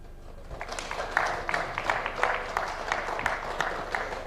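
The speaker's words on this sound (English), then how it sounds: "Another round of applause for Honorable Kimani." Applause for Honorable Kimani at a National Assembly legislative retreat, a moderate crowd of members clapping steadily in a hall, with a few sharper individual claps standing out.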